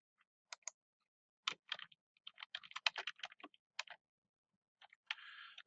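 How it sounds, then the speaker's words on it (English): Typing on a computer keyboard while entering a name and course details into a Word document: quiet, scattered keystrokes in uneven bursts, ending with a brief run of rapid clicks, no talking. "I then type in my name and my instructor's name and our course number."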